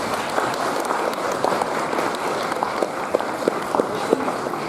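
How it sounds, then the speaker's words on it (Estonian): Audience clapping fills a school Christmas party, steady applause for children dressed as elves, with scattered louder claps standing out near and around through the whole burst. "suur aplaus meie päkapikkudele"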